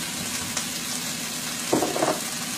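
Bok choy and green onions frying in a pan while being stirred, a constant loud sizzle with a brief scrape of the utensil partway through.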